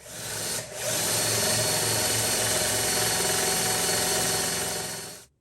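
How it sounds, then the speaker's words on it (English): A power drill grinds steadily into an ancient kauri wood bass body, drilling the jack hole at close range, loud and continuous for about five seconds after a brief dip near the start, then winds down. "right after I drill for the jack"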